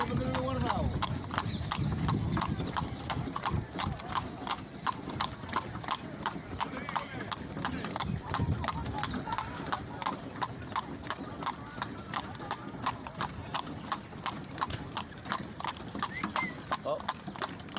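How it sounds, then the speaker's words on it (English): Hooves of a horse pulling a cart clip-clop in a steady, brisk rhythm for the whole stretch, with people talking over the clatter and the rumble of the moving cart. "We've done the horse and cart ride"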